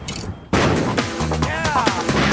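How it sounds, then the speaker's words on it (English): Something blown up during a failed explosives test with the wrong mixture: a sudden loud blast at half a second, then sustained crashing, rumbling debris noise that persists to the end. "We made something blow up."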